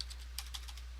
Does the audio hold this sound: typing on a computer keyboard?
yes